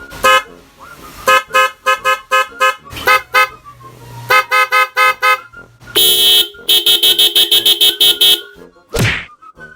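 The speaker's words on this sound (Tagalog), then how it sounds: "May mga busina dito na marunong magsalita." Novelty car horns blare in rapid bursts, playing tune-like honking patterns and voice-like phrases, loud and close, with a brief whooshing sweep near the end.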